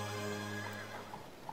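A horse neighs in the Fistful of Gun video game, one drawn-out, clear whinny that trails off, followed by a faint click near the end.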